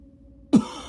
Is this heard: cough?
yes